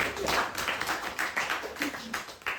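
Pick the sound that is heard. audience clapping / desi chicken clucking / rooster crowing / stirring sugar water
audience clapping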